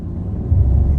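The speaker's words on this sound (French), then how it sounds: "Là je vais tester un petit peu l'accélération." Peugeot 2008 1.2 PureTech 110 hp car accelerating: a low engine rumble that swells noticeably halfway through the brief moment, heard from inside with no talking.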